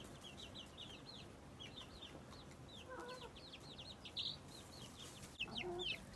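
High, thin chirps repeat in quick bursts over steady outdoor background noise, with a few louder cheeps near the end, close by.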